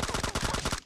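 Automatic gunfire rattles in PUBG Mobile, a fast burst of about eight or nine loud, evenly spaced shots that stops abruptly.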